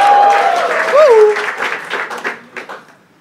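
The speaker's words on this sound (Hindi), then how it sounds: "और रामकृष्ण नल्ला के लिए एक बार जोरदार तालियां भाई।" Applause from a comedy-show audience fills the room and fades over a few seconds, while a host speaks over the clapping.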